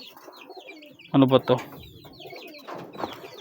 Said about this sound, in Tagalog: So yung bisita natin mga kalapatid, so yan, dumayo sa atin.